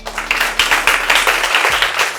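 An audience applauds in a loud, dense burst of clapping that lasts about two seconds, with no talking over it.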